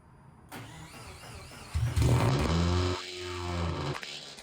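A modified 500 hp Subaru STI engine cranks with a whirring starter, then catches and roars up loudly, revving high before settling into a rough idle.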